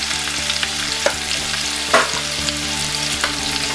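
Vegetables for Kerala aviyal sautéing in coconut oil with turmeric, a steady close sizzle broken by a few scraping stirs of a spoon in the pan, over faint background music.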